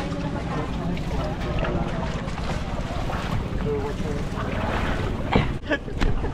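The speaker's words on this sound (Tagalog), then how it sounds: "We're going to ride the bangka, the little boat." A bangka outrigger motorboat engine drones steadily on open water at the Puerto Princesa Underground River, with wind buffeting, some muffled voices and a few knocks near the end.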